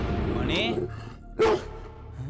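A new dog barks once, loud and close, in an indoor movie scene, following a whiny vocal sound, with low background noise around it.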